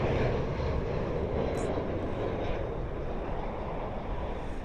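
Engines of a British Airways Airbus A320 at London Heathrow give a steady, broad roar that holds evenly loud for the whole stretch, with no voices over it.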